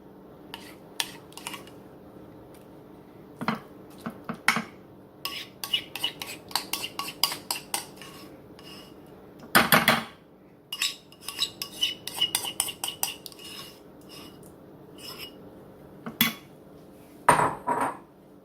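A spoon scrapes and taps against a casserole dish while spreading a cream cheese and sour cream mix, with irregular clinks and smears, a few sharper knocks, no talking.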